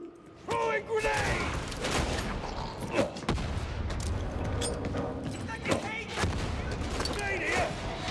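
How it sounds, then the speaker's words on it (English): Gunfire and a grenade blast from the video game Darktide rattle densely throughout, with sharp bursts and a louder boom near the middle, while a voice talks over the combat. "I'll throw a grenade"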